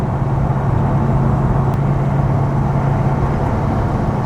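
An Ultima RS sports car drives with a steady, loud engine drone and road rumble, constant throughout with no pauses.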